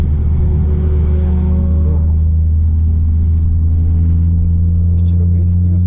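A Gol GTI's engine runs loud and close, a heavy steady rumble with slight rises in revs.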